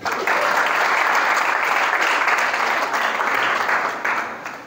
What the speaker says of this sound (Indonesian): tepuk tangan untuk leadership people hari ini